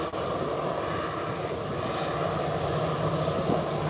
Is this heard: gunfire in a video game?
no